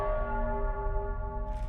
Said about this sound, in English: The bells.